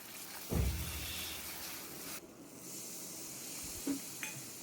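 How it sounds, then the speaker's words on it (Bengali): Chili and turmeric sizzle while being sautéed in a pan for a hilsa mustard curry, a soft, steady frying hiss with a couple of clinks from stirring, faint and without speech. "লঙ্কা আর হলুদটাকে দিয়ে দিলাম। দিয়ে কষতে থাকলাম।"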